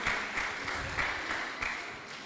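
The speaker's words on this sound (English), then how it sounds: "can we have a huge round of applause for all the referees," Applause for referees, coaches and parents at a squash tournament finals ceremony, a moderate, somewhat distant wash of clapping with a slight pulsing rhythm, lasting a couple of seconds.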